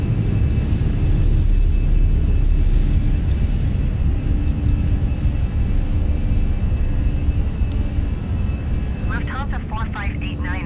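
Fenix A320 airliner accelerating down the runway on its takeoff roll in Microsoft Flight Simulator 2020, a loud, steady engine roar with rumble that holds throughout, with brief chirpy tones near the end.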